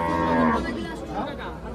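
Cattle at a busy village cow market, one close moo at the start followed by murmuring crowd chatter and livestock noise.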